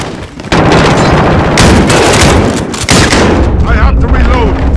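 Call of Duty gunfire: loud, dense bursts and blasts of in-game shooting with booming impacts, close and continuous, over a busy battle soundscape with faint voices.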